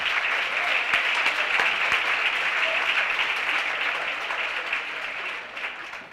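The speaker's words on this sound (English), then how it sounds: "So give her a big round of applause" An audience at a women's trailblazers awards ceremony gives a speaker a round of applause. The clapping is steady and fairly loud, then gradually fades toward the end.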